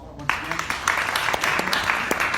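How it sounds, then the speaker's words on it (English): A small fringe-theatre audience applauds as a volunteer is welcomed onto the stage, scattered individual claps rising quickly out of near silence and continuing at a moderate, uneven level. "Give a round of applause once"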